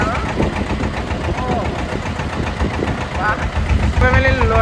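A fishing boat's engine runs with a steady, throbbing rumble and knocking vibration beneath a voice, which keeps talking over it nearly the whole time.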